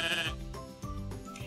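A sheep bleats several times in quick succession, a wavering nasal call heard up close and fairly soft, with no talking.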